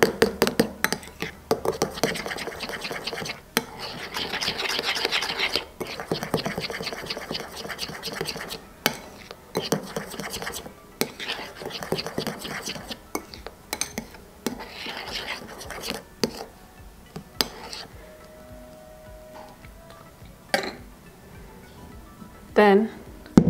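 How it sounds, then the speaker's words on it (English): Ingredients stirred together in a bowl while making a chocolate cake, with utensil scrapes and clinks against the dish recurring in bursts, close by and fairly busy, with some quieter stretches toward the end. "And stir them together."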